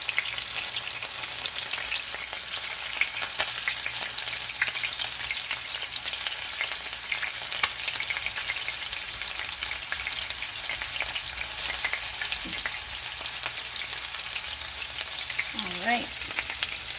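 Italian meatballs fry in a pan with a steady, close sizzle that runs the whole time, plus a few brief clinks as they are turned near the end.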